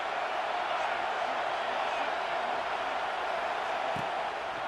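A broad roar of a large college football stadium crowd fills the space continuously, a steady wash of cheering noise heard from a distance.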